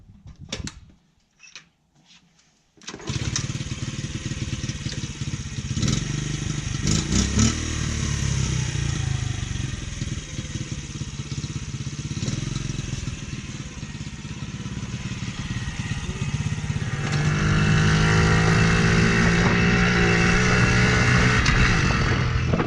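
A 1998 Honda Z50R minibike, a barn find just tuned up, starts after a few quiet seconds and runs steadily close by, its small engine buzzing and revving harder near the end.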